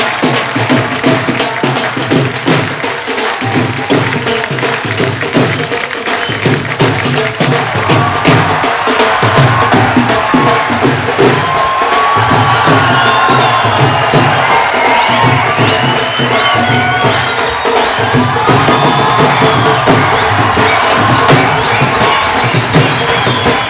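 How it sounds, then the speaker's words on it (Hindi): A television comedy show audience bursts into loud, sustained applause and cheering with whoops and shouts, welcoming celebrity guests at an anniversary celebration, continuous and close throughout. "जोरदार तालियों से एक बार स्वागत कीजिए"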